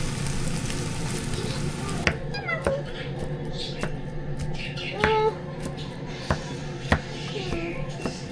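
An egg fries in a pan with a steady sizzle and sharp crackles and pops throughout. A cat meows several times nearby.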